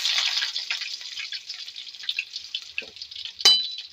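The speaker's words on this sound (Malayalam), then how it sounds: "ഇഞ്ചി വെളുത്തുള്ളി ചതച്ചത് ചേർത്തിട്ടുണ്ട് ഒന്ന് മൂക്കട്ടെ" Steady crackling sizzle of crushed ginger and garlic frying in hot oil, close and continuous, with a couple of brief clinks or stirring taps near the end.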